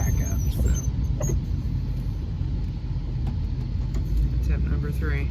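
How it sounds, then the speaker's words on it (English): A pickup truck on snow labors to back up, its engine rumbling low and steady with faint squeals, while a person talks over it close by. "The truck on the snow is not wanting to back up"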